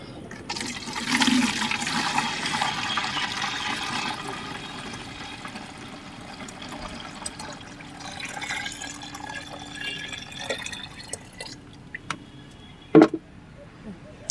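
Lime mixed into five litres of water is poured into a bottle for a hibiscus plant, giving a steady gush of running liquid, strongest at the start and thinning to a soft trickle, with a few sharp knocks near the end.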